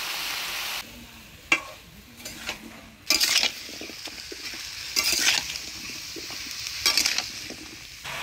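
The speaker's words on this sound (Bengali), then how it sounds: "ভালো করে সবজিটা নাড়াচাড়া করে নিলাম।" Winter vegetables cooking with turmeric, salt and green chilli in a pan, stirred with a utensil in scraping bursts over a soft sizzle, with occasional clinks against the metal.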